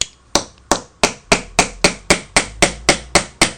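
Close, evenly spaced hammer blows drive a rod through a microwave oven transformer core, around eleven sharp metallic strikes with quick decays and no voices.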